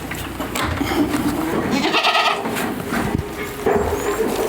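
A ewe on a farm bleats loudly and close, with its calls running in a steady layered stream alongside more bleating from other sheep and livestock in the background.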